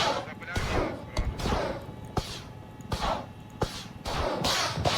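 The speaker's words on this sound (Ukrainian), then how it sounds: "А, це повільніше стріляє, але походу більше урону дає." A helicopter-mounted weapon fires in the Squad video game with repeated rough bursts and sharp cracking impacts, steady and fairly loud, with no talk over it.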